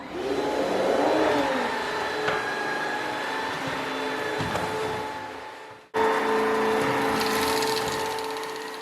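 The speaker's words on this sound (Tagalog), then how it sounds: "It instantly sucks up the dust while mopping at the same time." An iLife W90 cordless vacuum mop runs while cleaning a floor, giving a steady whirring motor hum with a brief cut near the end before resuming.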